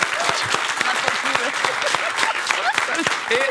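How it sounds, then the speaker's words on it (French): An audience applauds Jérémy Detlo with steady, dense clapping throughout, while voices cheer and talk over it. "On peut applaudir, s'il vous plaît."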